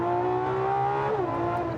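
Ferrari LaFerrari with a naturally aspirated V12 and modified straight-pipe exhaust roars loud and close, holding a sustained high-rev pitch before dipping slightly as the revs shift.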